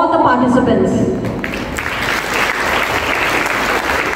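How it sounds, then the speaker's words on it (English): Audience applause at an inter-school patriotic solo song competition, a dense, loud wash of clapping that fills the whole stretch, with a voice audible near the start. "we should all give a big round of applause for all the participants."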